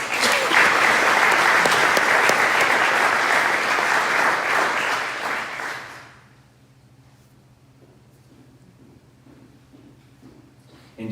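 A school auditorium crowd applauds National Honor Society inductees at a 2025 induction ceremony: dense, loud clapping for about six seconds, then a quick fade into quiet room tone.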